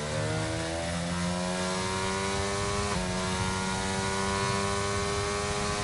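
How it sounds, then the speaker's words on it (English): A Mercedes-Benz V6 turbo hybrid Formula 1 engine in the racing game F1 22 screams loudly and steadily at high revs for several seconds, with one quick upshift partway through and no talking. "That Mercedes, the sound of a Mercedes-Benz V6 turbo hybrid engine."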